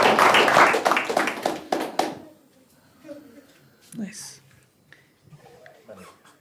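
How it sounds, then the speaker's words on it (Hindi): Audience applause for comedians at a stand-up comedy show: a dense, loud burst of clapping for about two seconds that quickly dies away, leaving faint murmurs and scattered quiet sounds. "प्लीज इनके लिए ताली बजाइए"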